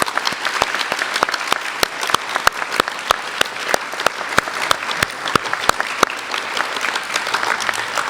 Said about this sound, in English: So can I give them a round of applause?